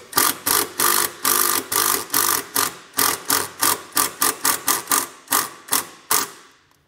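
A self-tapping screw is driven into a 2024 Kia's vehicle frame through a small pilot hole to secure a ground wire, heard as a fast run of about twenty sharp, evenly spaced ratcheting bursts from a nearby driver, with no talk.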